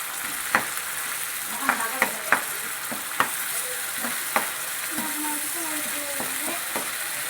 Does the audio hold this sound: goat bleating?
no